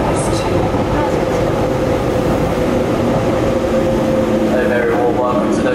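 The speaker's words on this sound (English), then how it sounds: "The train approaching platform B is the service to" Class 345 Elizabeth line train approaches the platform at Custom House station, a loud steady rumble and whine filling the station, with a platform announcement voice over it.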